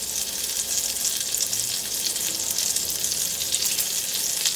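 Mushroom caps sizzle and fry in the middle of a pan with a little grease, a steady, close crackling hiss with no voices.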